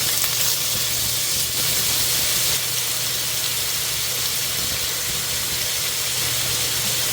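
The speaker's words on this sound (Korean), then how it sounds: "고기 먼저 볶을게요" Meat stir-frying in cooking oil for jjajangmyeon: a loud, steady close sizzle and hiss with constant frying crackle throughout and no talk.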